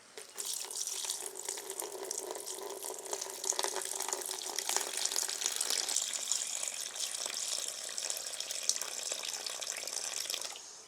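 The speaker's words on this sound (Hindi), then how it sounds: "यहाँ से मैं डालता हूँ पानी को।" Water pours steadily into a homemade plastic box cooler, a continuous splashing gush that stays even and close from start to finish with no talking.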